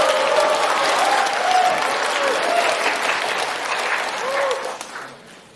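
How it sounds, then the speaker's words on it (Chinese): A theatre audience at a Deyunshe crosstalk comedy show gives loud, sustained applause that stays dense and even before tapering off at the end, with some voices mixed in. "掌声有请"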